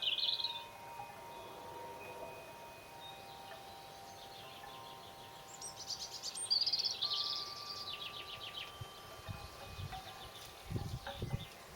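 Garden birds chirp and trill from a short distance, their bright, high calls coming in scattered bursts over a quiet outdoor background, with light rustling near the end.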